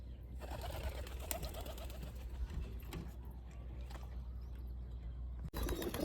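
Pigeons in a fancy-pigeon loft coo softly in the background over a low, steady ambient hum.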